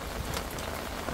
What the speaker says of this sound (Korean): 와 비가